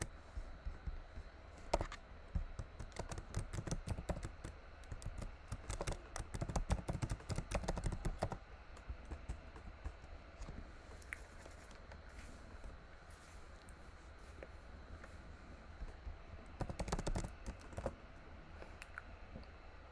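Typing on a computer keyboard while coding a random forest machine-learning model: dense, steady key clatter through most of the stretch, thinning out midway, then a fresh burst near the end, close and moderately loud.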